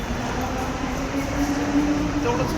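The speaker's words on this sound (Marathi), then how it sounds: "तर 7:40ची ट्रेन लागली आहे" A Thane-bound train rumbles along close by in India, a steady low roar with a faint whining tone rising over it.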